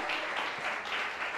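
An audience at a televised quiz contest applauds a contestant, a brief, dense burst of many hands clapping in slight pulsing waves with no speech.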